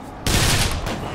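Burst of rapid gunfire from the shooter game Bioshock Infinite, a loud, close rattle of overlapping shots lasting about a second.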